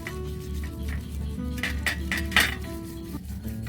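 Metal weapons from a Durga idol clatter and clink as they are scrubbed clean, giving close, irregular metallic knocks and scrapes over a steady low hum, with one sharper clank near the end.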